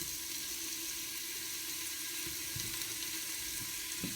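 Sausage sizzles in a hot oiled pan, giving a continuous soft hiss at moderate distance with a few faint clatters, and no talking.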